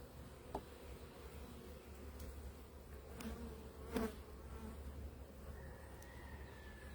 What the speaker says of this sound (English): Very strong beehive.